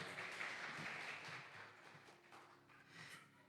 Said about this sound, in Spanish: Denle un aplauso al Señor porque ha sido bueno.